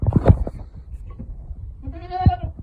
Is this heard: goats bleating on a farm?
yes